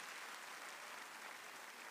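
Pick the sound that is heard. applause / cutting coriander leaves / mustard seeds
applause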